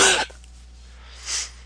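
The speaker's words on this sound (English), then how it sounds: "sorry for all the coughing" A single harsh cough or throat-clearing burst at the start, close and fairly loud, followed by quiet room hum and a second softer breathy burst near the end.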